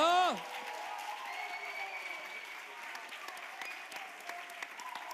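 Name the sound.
audience applause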